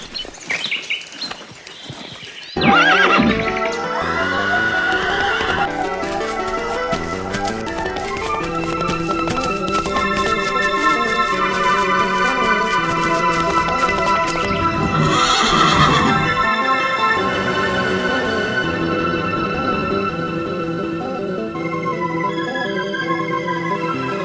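A horse whinnies loudly over a busy musical background, with hoofbeats and a second neigh partway through.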